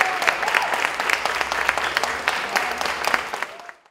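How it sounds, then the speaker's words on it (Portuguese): An audience rises in a standing ovation after a classical quartet's performance, with lively, crisp clapping from many hands that holds steady and then cuts off sharply at the end. "O público aplaudiu de pé."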